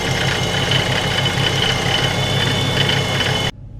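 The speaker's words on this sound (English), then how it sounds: "So this thing sounds absolutely insane while it idles." A Procharged supercharged 5.7 Hemi V8 idling up close, a loud, steady, rough rumble with a whine on top, cutting off abruptly at the end.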